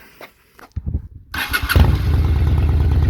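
A 2006 Honda VT 600 Shadow VLX motorcycle engine cranks over and catches, settling into a steady, loud idle after a brief moment of quiet and a few clicks.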